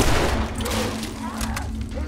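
Gunfire from The Last of Us, shots crackling over a dense, continuous game soundscape, with speech faintly mixed in throughout.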